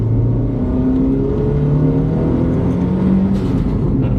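A Mitsubishi Lancer Evolution 3 engine idles and revs close by, a steady throaty rumble with rising and falling pitch, heard alone without speech.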